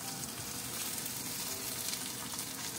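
Pork coated in miso jam sizzles as it grills, making a continuous, even crackling hiss up close with no voices over it.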